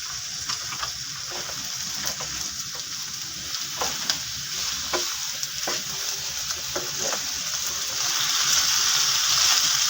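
Vegetables sizzle loudly in a pan after half a glass of water is poured in, a steady hiss with scattered pops and crackles that grows stronger toward the end, with no voices.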